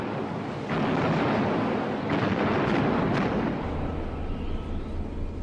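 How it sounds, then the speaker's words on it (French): Large-calibre battleship shells burst on the deck of a German warship in a Second World War Atlantic battle: dull, heavy booms over a constant low, roaring rumble, with no voices. "Les obus de gros calibre pleuvent sur le pont du navire allemand"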